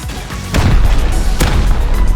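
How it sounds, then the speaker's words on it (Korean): Gunfire in the survival game Rust, with two sharp shots about a second apart over a loud, rumbling background of game noise. "형이 먼저 쏴."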